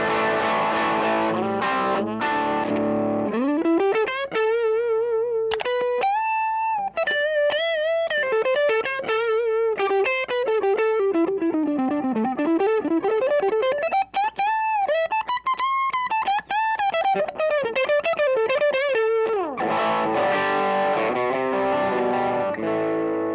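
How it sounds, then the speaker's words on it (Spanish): Electric guitar driven hard through an overdrive pedal with heavy, crunchy distortion, loud and sustained with strummed chords at the start and end around bending, wailing lead notes in between, with no voices. "Si yo toco fuerte, la distorsión empieza a crujir y eso está bueno en un pedal."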